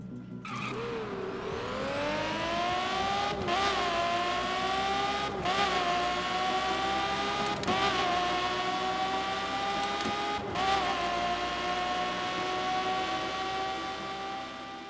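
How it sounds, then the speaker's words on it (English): A racing car engine in the video game The Crew revs hard and steadily for the whole stretch, its pitch rising and dipping with a few sharp shifts as the car accelerates, loud and close with no talk. "The symphony of the combustion engine as it roars out of its exhaust system isn't up to the level of Forza"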